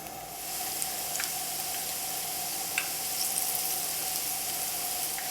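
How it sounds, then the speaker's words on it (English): Batter-dipped zucchini blossoms fry in a pan with a steady, close, even sizzle and hiss throughout, broken only by a few faint pops. "Now we're going to pan fry these for about 2 to 3 minutes until they are deep golden color."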